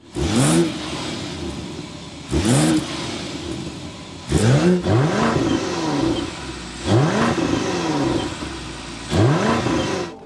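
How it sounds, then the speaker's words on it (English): Engines of a 2025 BMW X5 xDrive40i with the B58 and an X5 M60i with the S68 start up and rev, four loud separate bursts of rising and falling engine revs spaced a few seconds apart over a continuous idle rumble. "start up the B58 and S68 so you can hear the exhaust notes"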